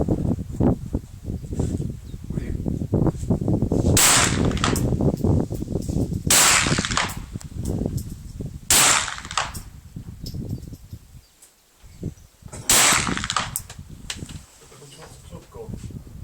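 A Heckler & Koch 416 rifle chambered in .22lr fires four sharp, widely spaced shots at close range, each a crisp crack, while people talk throughout.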